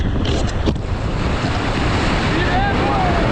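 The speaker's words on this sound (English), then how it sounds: "So I am about to dive into a wave." Ocean surf washing and rushing around a swimmer diving into a wave at a beach, a steady loud wash of water and wind buffeting the microphone, with brief whistling tones near the end.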